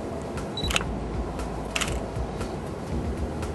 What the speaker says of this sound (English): I'm taking a 1 second exposure here.